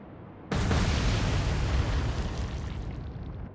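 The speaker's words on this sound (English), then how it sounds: "Troop transport's just gone bang." Torpedo hits blowing up a troop transport in the naval game Atlantic Fleet, a sudden heavy explosion that stays as a loud, broad roar and slowly fades over a few seconds.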